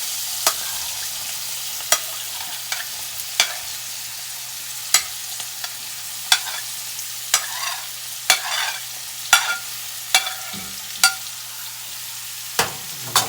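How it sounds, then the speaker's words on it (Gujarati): Chopped green bell peppers fry in hot tempering oil, giving a steady sizzling hiss. A spoon scrapes the pan in sharp regular clicks every second or so, close and clear, with no voices. "હવે ધીરે ધીરે શાક એટલે મરચાંનું નાખીશું અંદર સમારેલા મરચાં"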